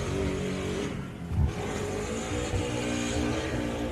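Off-road race machine with a faulty exhaust, its engine droning raggedly and rasping like a motorbike, with a brief loud blip midway and a steady rough note before and after.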